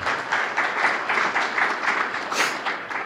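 An audience at a tech conference talk gives a short, steady round of applause, many hands clapping at once in a dense, continuous patter at moderate loudness.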